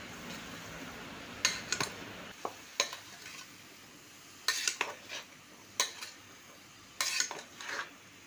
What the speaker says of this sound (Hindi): चलिए इसे अच्छे से मिक्स कर लेते हैं।